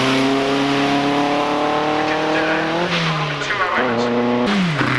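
Hillclimb racing car number 723 with mudguards and lights, not supercharged, roaring past at Prescott, its loud engine note climbing and dropping through gear changes close by, with a commentator's voice faintly underneath.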